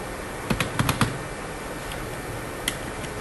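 Typing the name Nusrat on a computer keyboard, a short quick burst of about five close key clicks followed by a single later tap, fairly quiet with no talking.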